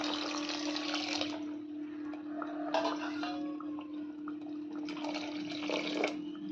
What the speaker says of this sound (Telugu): ఇప్పుడు నీళ్ళు వేసేస్తున్నా.